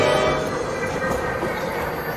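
A train rushes past in the animated film Ice Age: Dawn of the Dinosaurs, a loud, dense rolling roar with rattling wheels that fills the whole moment without any voices.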